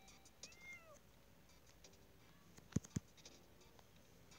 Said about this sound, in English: I hear the little meows!